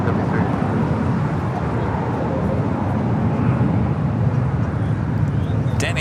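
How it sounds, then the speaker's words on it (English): A British Airways Airbus A350-1000 departs LAX, a steady broadband jet roar rumbling continuously at moderate distance with no break. "This is Speedbird Flight 282, 8 Whiskey, departing to London Heathrow on the A350 1000."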